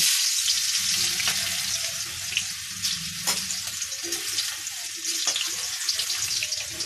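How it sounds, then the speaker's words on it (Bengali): Crushed garlic sizzles and spatters in hot oil in a home kitchen, a steady bright frying hiss with scattered crackles and pops, plus some clinks from the pan. "তেলটা আমার গরমও হয়ে গেছে এবার আমি থেতো করা রসুন দিয়ে দেব"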